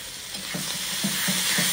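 A spoon stirs masala with finely chopped onion, tomato and green coriander in a sizzling pan, giving about five rhythmic scraping strokes roughly every half second over a steady frying hiss, close up with no talking.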